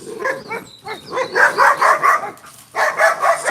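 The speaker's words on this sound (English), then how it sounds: "Somebody's walking by my fence to provoke the dogs on purpose" Several dogs bark in repeated bursts at someone passing by a fence. The barks are loud and close, coming in clustered volleys with a brief pause near the end before the barking picks up again.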